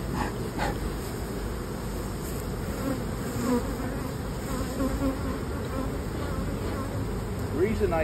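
Dense, continuous buzzing of many honey bees swarming close around, a steady droning hum with occasional louder passes near by.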